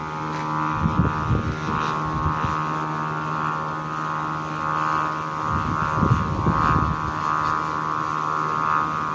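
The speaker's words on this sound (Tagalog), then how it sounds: "Sobrang lakas ng hangin." Strong wind buffets the microphone during a kite flight outdoors, a continuous roaring rush with heavier gusts swelling now and then.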